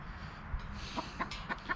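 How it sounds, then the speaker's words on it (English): A chicken clucks in a workshop during an e-bike fork installation, a few short soft clucks in quick succession over low background noise. "Chicken likes it."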